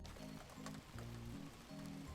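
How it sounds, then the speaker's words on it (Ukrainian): Rain falling after a hot summer day, rendered as a steady, even patter on surfaces with soft tonal music playing over it throughout. "Пішов дощ."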